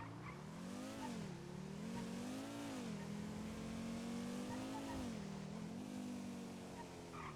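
An LSPD police car in the GTA NoPixel video game, its engine droning steadily and rising and falling in pitch as it revs and drives, continuous and fairly distant-sounding.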